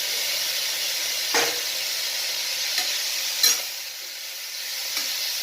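Potato and pointed gourd curry with chopped tomato sizzles steadily in oil in a pan, with a few distinct scraping strokes of a spoon or spatula as it is stirred, close by and without talk.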